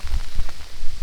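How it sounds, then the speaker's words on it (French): Hail falls on a summer hike, a quick close patter of irregular drumming hits against a surface, briefly and loudly. "C'est même pas de la pluie, c'est de la grêle."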